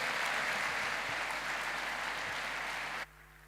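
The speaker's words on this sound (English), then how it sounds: "big round of applause, Mr. Patrick Hindmarsh." A conference crowd at Kawaiicon 2022 gives a speaker a big round of applause, dense steady clapping for about three seconds that stops abruptly.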